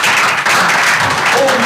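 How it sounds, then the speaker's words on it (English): Loud, close audience clapping at an African InsurTech business conference, a short continuous burst with a hint of voices mixed in. "Please, can you clap for them?"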